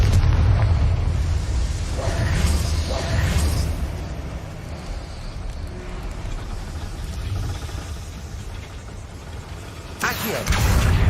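Confringo fire spell blasting in Hogwarts Legacy, a heavy booming game explosion with rumbling aftermath, followed later by a second burst, layered over game sound.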